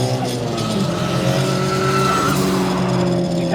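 Volvo P1800 restomod by Cyan Racing with a turbocharged engine, heard as a steady, loud engine drone with a faint high whistle when the throttle is lifted, continuous throughout.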